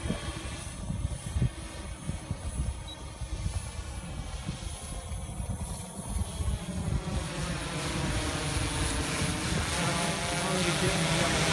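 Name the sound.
DJI S1000 multirotor drone flying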